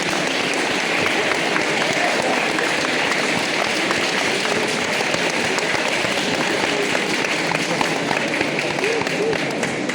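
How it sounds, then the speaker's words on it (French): Loud, dense applause from a large crowd of parents and guests at a ceremony, sustained and even throughout with voices mixed underneath. "on peut les applaudir une nouvelle fois."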